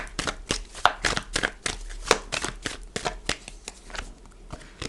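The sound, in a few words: tarot cards being shuffled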